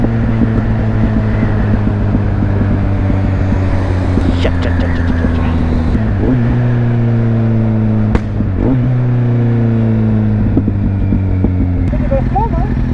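A motorcycle engine revs hard and repeatedly, with rising and falling pitch, wind buffeting the microphone, and voices speaking briefly over it.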